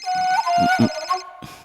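A mobile phone rings indoors with a bright, melodic electronic ringtone that repeats in short phrases. Voices speak in brief bursts underneath it.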